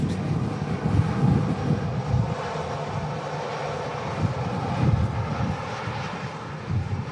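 A Freebird Airlines passenger jet with a silver tail at Manchester Airport on a day of strong crosswinds gives a steady, moderately distant engine roar with a deep rumbling undertone, holding even throughout with no voices.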